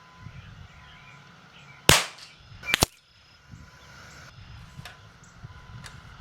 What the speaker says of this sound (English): So this is my 10th shot.